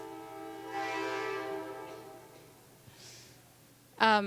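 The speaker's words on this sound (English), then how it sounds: "Going to let that train pass." A train passes with its horn sounding long harmonic blasts, rising and fading over the rumble of the cars, then a short sharp horn burst at the end, heard outdoors with little talk.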